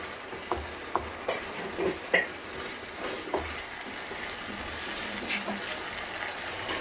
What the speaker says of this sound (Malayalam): ഇങ്ങനെ ഒന്ന് എണ്ണയിൽ കിടന്ന് നല്ലപോലെ ഒന്ന് വഴന്ന് വരണം.